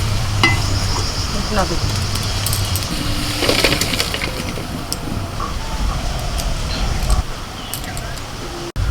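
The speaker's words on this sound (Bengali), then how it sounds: "আলুগুলো ভাজা হয়ে গেছে" Potatoes frying in a pan, with a steady close sizzle running throughout and scattered stirring clatter, during preparation of a chicken thali meal.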